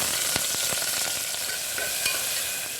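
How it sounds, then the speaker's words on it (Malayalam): Thinly sliced onion fries in hot oil with whole spices for a paneer peas pulao, giving a steady close-up sizzle with occasional light stirring scrapes and no talking. "ഇനി ഇതിലേക്ക് നമുക്ക് ഒരു ചെറിയ സവാള നീളത്തിൽ കനം കുറച്ചരിഞ്ഞതാണ് അതും കൂടി ഒന്ന് ഇട്ട് കൊടുക്കാം"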